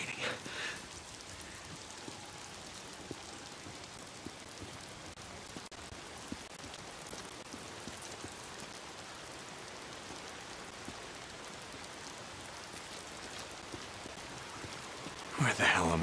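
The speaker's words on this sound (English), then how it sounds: "If it's not the freaks, it's the goddamn rain." Rain in the video game Days Gone falls as a faint, even hiss of drops that continues throughout, rising into a louder burst right at the end.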